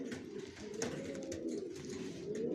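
Racing pigeons coo softly and continuously nearby, a low, murmuring warble running under faint background noise, with no talk heard.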